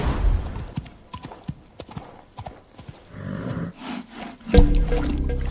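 Horse in a stable stall stamps and clops its hooves in irregular sharp knocks, close and fairly loud, with a brief snort or whinny-like sound and a heavy thump near the end.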